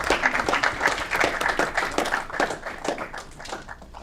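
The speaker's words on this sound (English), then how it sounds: "One more round of applause for her for representing Aurora." Sustained crowd applause fills a city council meeting in Aurora: dense, steady clapping from many hands at close range, carrying on without a break for the whole stretch.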